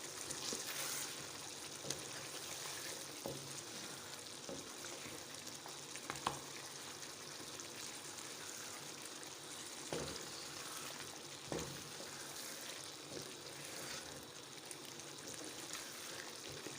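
Mutton chops sizzling with spices in a pan as they are mixed, a steady soft frying hiss with occasional clinks and scrapes of stirring, no voices.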